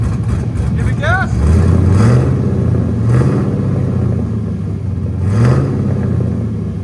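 A car engine revs repeatedly through a Carven R 3.0 muffler, with three loud throttle blips over a steady deep idle rumble, and brief voices heard near the start.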